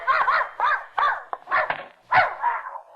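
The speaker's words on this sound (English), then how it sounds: "I came for Mrs. Pondecker's dog to take him for a walk" A dog barks repeatedly and close by, a run of sharp, excited yaps and woofs in an irregular rhythm, alone without talk.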